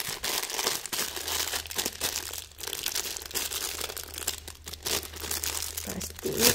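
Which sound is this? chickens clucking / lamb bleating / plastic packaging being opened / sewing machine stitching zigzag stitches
plastic packaging being opened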